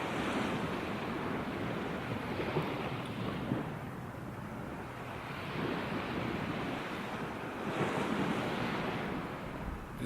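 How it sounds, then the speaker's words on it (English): Steady surf of sea waves washing onto a beach, a continuous broadband rush that swells and eases in slow surges, with some wind noise on the microphone and no voices. "I got a beach behind me. I got a sea right there."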